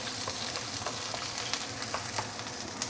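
Garlic, the white part of spring onion and dried chili sauté briskly in a pan, a dense, even sizzle with small crackles and faint stirring scrapes, heard close and alone.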